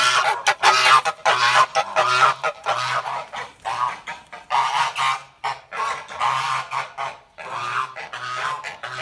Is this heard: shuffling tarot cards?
no